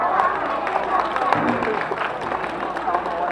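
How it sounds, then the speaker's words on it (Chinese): A crowd claps at a Taiwanese folk troupe performance at a temple event, a dense, fairly loud patter of many hands, mixed with voices and a general hubbub. "来拍手啊！"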